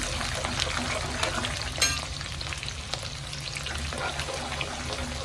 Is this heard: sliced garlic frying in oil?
yes